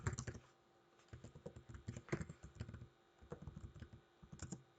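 Someone types on a computer keyboard while setting up a Raspberry Pi 4, producing quiet, close clusters of rapid key clacks with short pauses between bursts.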